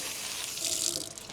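Water from a kitchen tap runs steadily onto a paper bag held beneath it, a continuous close hiss and splash with no talking.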